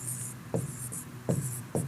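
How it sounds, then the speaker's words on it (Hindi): A marker squeaks across a board during a math lesson, making a few quick, close scratchy strokes over a low steady hum. "इसको थोड़ा सा इधर लिख लेते हैं।"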